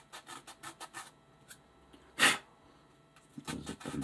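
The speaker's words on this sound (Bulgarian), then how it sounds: "После може да се доформи с една по-финна шкурка." Fine sandpaper rubs over a plastic kaval, a folk flute, in short rhythmic rasping strokes. One louder scrape stands out midway, then quicker strokes follow, close and fairly quiet.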